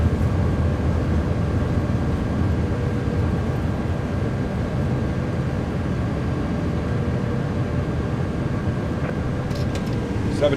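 An iniBuilds A330 in Microsoft Flight Simulator 2024 decelerates on landing with thrust reversers deployed, giving a steady, loud, broadband roar and low rumble that holds throughout.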